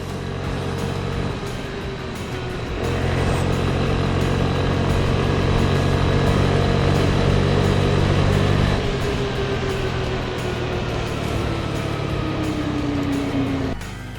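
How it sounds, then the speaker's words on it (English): A Vespa Primavera 150 S scooter rides through Chicago's Pilsen streets, its small engine droning steadily and loudly up close with wind rush, the pitch shifting as throttle changes partway through. "That's the thing about the Vespa. It's just a really just kick on, jump on, twist throttle, go."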